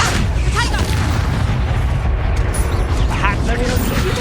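Confringo fire spell blast in a wizarding video game, a booming burst of magical impact amid dense game effects and music, with a voice speaking over it.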